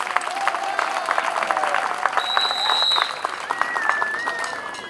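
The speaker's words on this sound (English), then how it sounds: "Can you clap for the teachers?" At a school graduation ceremony, the audience claps for the teachers in sustained, busy applause, with a few whistles and faint voices rising through the crowd.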